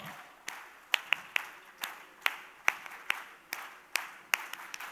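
Convention audience at a women leaders' event clapping in scattered bursts, sharp distinct claps at uneven intervals over a faint room hum, no talking, not a full sustained applause.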